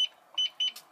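A parked car's alarm being set sounds as a series of short electronic beeps, three or four brief chirps about a quarter second apart, moderately near, outdoors on a cold day.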